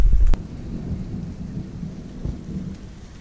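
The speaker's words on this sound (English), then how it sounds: "That's thunder." Low, rumbling thunder rolls on through a rainstorm, with a sharp burst at the start that fades into a long, steady grumble under the patter of rain.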